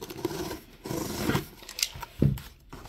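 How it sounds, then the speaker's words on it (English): A blade slicing through packing tape on a toy box during an unboxing, short scraping and ripping bursts with faint rustling close by. "So we'll go ahead and cut the tape."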